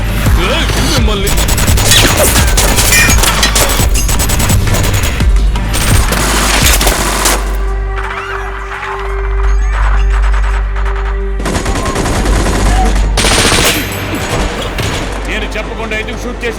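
Loud, dense bursts of automatic gunfire and booming shots in a hijacking scene, with a lull in the middle before the shooting resumes, mixed with shouting voices.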